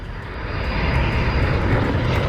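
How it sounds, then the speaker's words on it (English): An enemy aircraft in a multiplayer shooter game roars overhead as a loud, steady engine drone that fills the moment without speech. "Another plane?"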